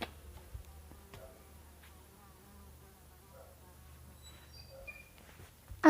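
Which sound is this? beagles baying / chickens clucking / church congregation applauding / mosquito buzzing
mosquito buzzing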